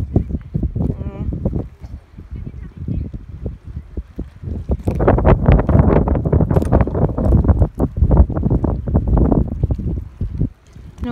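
Strong wind buffeting the microphone at the seaside, a loud, continuous roar with gusty surges throughout, heavier in the second half.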